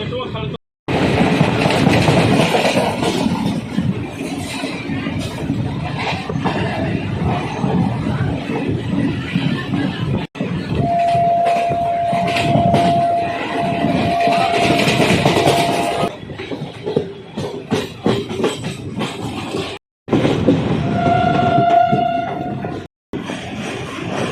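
The 12054 Amritsar-Haridwar Jan Shatabdi Express rumbles and rattles steadily nearby for a long stretch arriving at Beas Junction, with clacking wheels, a brief high squeal and short breaks in the noise.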